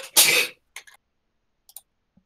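A single sharp sneeze bursts out up close, followed by a few faint clicks and small noises in near silence.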